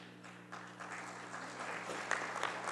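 Applause at an official swearing-in ceremony for a prosecutor general, faint, distant clapping from a crowd that builds gradually over a low steady hum, brief and soft throughout.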